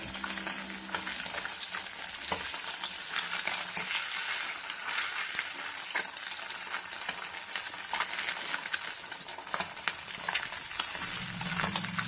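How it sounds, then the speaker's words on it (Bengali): Fresh bata fish frying lightly in hot oil in a pan, a steady loud sizzle with crackling spits and occasional stirring, continuous throughout. "হালকা করে মাছটা ভাজবো মাছটা বেশি কড়া করে ভাজবো না"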